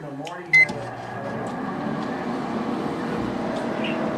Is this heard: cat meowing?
no